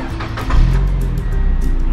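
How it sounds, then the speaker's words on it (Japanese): A Mazda Roadster NB (NB6C/NB8C) used car starts up, a short crank giving way to a low, rumbling idle close by within two seconds. "エンジンかけて"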